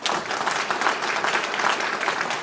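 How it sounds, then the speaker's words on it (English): Brief applause from an audience at a college district bachelor's program celebration, a steady dense clatter of many hands clapping at close range for about two and a half seconds. "So a brief hand of applause"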